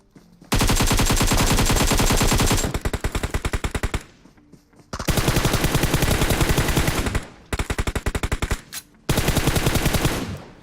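Long bursts of rapid automatic gunfire in a shooter video game, sustained rattling volleys broken by short pauses and a few single shots, loud and close with no voices over them.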